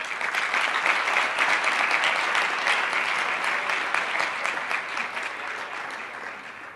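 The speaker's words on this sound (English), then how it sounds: "Can we have a louder round of applause," An audience claps in loud, sustained applause that holds steady, then gradually tapers off slightly, with a dense even texture of many hands and no distinct voices.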